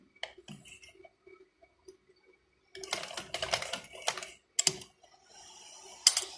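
A sewing machine stitches a box pocket on trousers in quick rattling bursts, the longest running a couple of seconds, between quiet pauses and light handling clicks.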